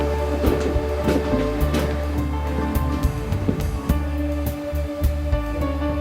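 A train rumbles at Taunton railway station on a Wolverhampton Low Level to Ilfracombe and Minehead service, a steady low drone with scattered clanks and rattles of carriages, close and continuous.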